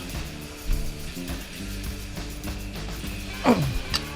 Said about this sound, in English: then you reef on them with 2 big goddamn wrenches like this